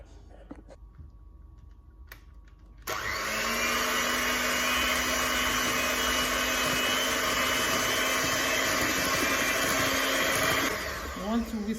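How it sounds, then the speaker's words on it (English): Egg mixture for a yoghurt blueberry cake being whisked with an electric mixer, a steady loud whirring drone that starts abruptly after a few quiet seconds of kitchen noise and runs continuously before stopping near the end. "Now I'm going to start whisking"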